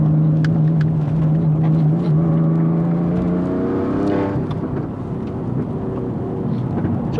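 A Toyota GR Yaris fitted with a larger turbo pulls hard on a mountain pass road, a loud, close engine note holding steady, then dropping at a gear shift and climbing again under rushing road noise.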